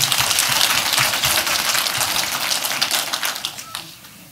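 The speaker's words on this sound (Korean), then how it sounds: "다 같이 한번 박수 쳐주실까요?" An audience at a Korean by-election candidates' debate in Tongyeong-Goseong bursts into loud, dense applause that stays full for several seconds, then thins and fades toward the end.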